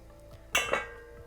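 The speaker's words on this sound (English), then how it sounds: "Let's take the lid off" Metal lid lifted off a pot of nearly boiling water while cooking idli, one sharp clank followed by a second lighter clink, close and brief against quiet room tone.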